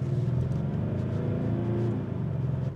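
Diesel V6 engine of a Maserati Ghibli running with a steady low rumble, close and continuous, a slight rise in revs midway before easing off, no voices.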